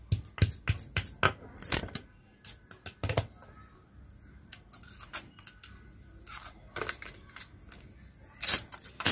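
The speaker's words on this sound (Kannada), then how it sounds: "ನೋಡಿ ಜಸ್ಟ್ ಈ ರೀತಿ ಜಜ್ಜಿದ್ರೆ ಸಾಕು, ಫುಲ್ ಸಣ್ಣಗಾಗೋದು ಬೇಡ." Green chilies are crushed in a mortar for an aloo palak gravy, with sharp, close pounding strikes and clinks landing in quick, irregular clusters separated by short quiet gaps.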